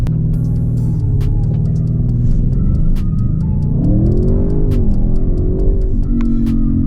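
An Audi RS6 in a launch start, its engine droning loud from inside the cabin with a deep rumble that rises in pitch as it accelerates, shifts and climbs again, with scattered clicks over it.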